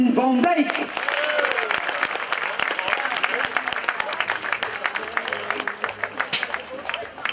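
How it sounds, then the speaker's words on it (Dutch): Crowd applause for cyclist Ellen van Dijk at a race ceremony, dense clapping from many people that gradually thins, with a voice over a loudspeaker at the start and murmured talk beneath. "We gaan fijn applaus geven"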